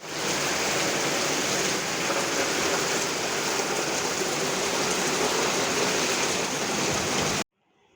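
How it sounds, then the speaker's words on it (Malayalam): Heavy rain falls outside in a dense, constant hiss, loud and steady with no voices, and it cuts off abruptly near the end. "അതാ പുറത്ത് നല്ല മഴയാണ് കേട്ടോ"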